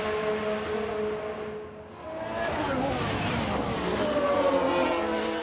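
Race cars in the F1 Manager 22 racing game roar past in a replay, engine tones rising and sweeping as the cars pass, with a commentator talking over the engines.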